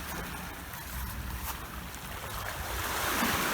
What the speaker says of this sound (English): the tide's coming a bit now